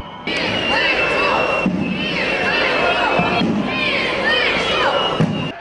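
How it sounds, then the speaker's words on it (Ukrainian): Loud crowd of protesting students and teachers at a street picket outside a regional administration building in Lviv, a dense continuous hubbub of voices and shouts with a few thumps, steady throughout. "натовп спудеїв на чолі з конями вирушають на місце усіх попередніх пікетів під стіни лода"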